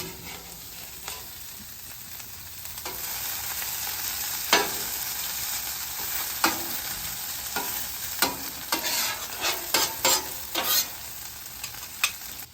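Biscuits and hash browns cook on a Weber griddle insert over a gas grill at about 425 degrees, a steady close sizzle broken by scattered spatula scrapes and taps that cluster toward the end, with no talk.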